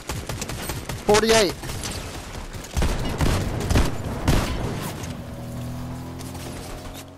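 Rapid bursts of gunfire crackle in a Fortnite match, several volleys spread across the moment, with players talking excitedly over the shooting.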